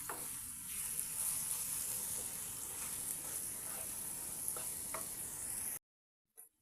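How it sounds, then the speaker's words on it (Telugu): Garam masala sizzling steadily in a pan while prawn curry cooks, a continuous close frying hiss with faint scraping stirs, cutting off to near silence at the end. "ఇదంతా బాగా కలబెట్టుకొని ఈ మసాలా కూడా బాగా ఫ్రై అవ్వనివ్వండి"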